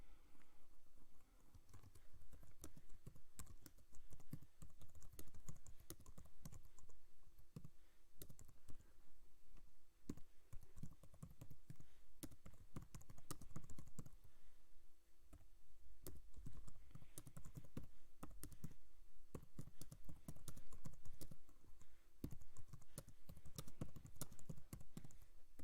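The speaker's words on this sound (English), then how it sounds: "so hold on a moment and let's type this up" Typing a tweet reply on a computer keyboard: continuous rapid key clicks and taps, close and fairly quiet, with brief pauses between bursts and no talking.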